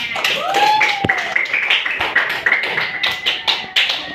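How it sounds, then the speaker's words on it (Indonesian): Children in a classroom clap for a classmate in quick, uneven bursts of taps while young voices sing and call out over the clapping. "Ini beri tepuk tangan dulu buat temannya."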